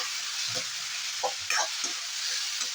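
A soft, steady sizzle of tomatoes frying in a covered pan, with a few quiet clinks and stirring sounds.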